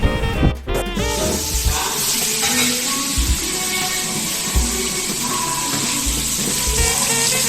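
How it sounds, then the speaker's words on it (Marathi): Pomfret fish coated in spiced masala fries in hot oil, giving a steady, dense sizzle that runs throughout after a brief clatter at the start, close and fairly loud with no talking. "पापलेट फ्राय."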